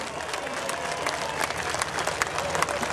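An audience at a murga performance claps steadily, a dense wash of applause with a few sharper individual claps standing out, heard at moderate level throughout.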